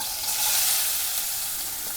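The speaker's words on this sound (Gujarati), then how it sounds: "ડુંગળી નાખીશું વઘારમાં" Onions sizzle loudly in hot tempering oil for urad dal, a dense continuous crackling hiss with no voices, steady from start to end.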